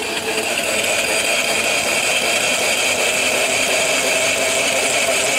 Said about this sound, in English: So it's what's called a mill engine or a box bed engine.